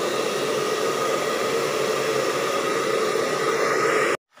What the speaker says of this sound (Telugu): మీకు హాట్ ఎయిర్ బ్లోయర్ ఆన్ చేసుకొని ఫుల్ హీట్ పెట్టేసి